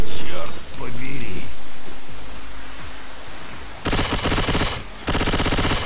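Rapid automatic gunfire in a tactical shooter game bursts out loud in the last two seconds after quieter noisy ambience, with a brief gap between two sustained volleys; a voice speaks faintly early on.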